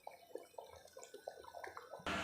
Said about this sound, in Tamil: நல்லா ஒரு 20 நிமிஷம் போல் நல்லா குழம்பு கொதிச்சிருச்சு